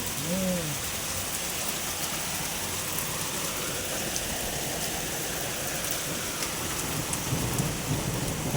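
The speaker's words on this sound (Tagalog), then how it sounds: "Pero naglalaglagan pa rin yung mga yelo." Round hailstones fall in a heavy shower in Riyadh, giving a dense, continuous patter of rain and ice on surfaces, with brief faint voices at the start and end.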